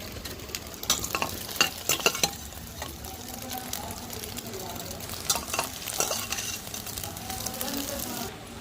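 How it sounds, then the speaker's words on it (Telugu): Green chillies, tomatoes and curry leaves fry in oil with a steady close crackle, broken by several sharp clatters of a spoon stirring against the pan. "పచ్చిమిర్చి, టమాటా, కరివేపాకు మొత్తం అయితే ఆయిల్లో ఫ్రై చేసేసుకున్నాం"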